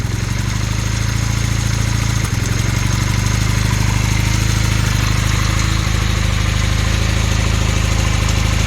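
A Honda Hondamatic 400 motorcycle engine idles steadily and evenly up close, with a constant low throb and no voices throughout.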